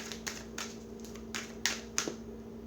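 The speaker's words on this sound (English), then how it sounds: "Okay, you have 2 cards stuck together, so I'm going to shuffle again." Crisp, irregular papery snaps and flicks of tarot cards being shuffled, a handful of sharp clicks spaced over a couple of seconds against a low steady hum.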